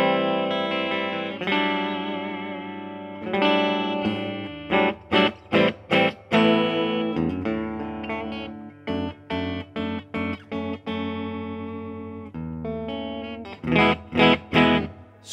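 Milton MT1 prototype electric guitar played through both pickups together, distorted with effects and reverb, strummed chords and short choppy stabs in a loud, close riff.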